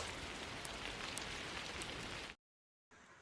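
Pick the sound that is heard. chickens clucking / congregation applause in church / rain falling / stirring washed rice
rain falling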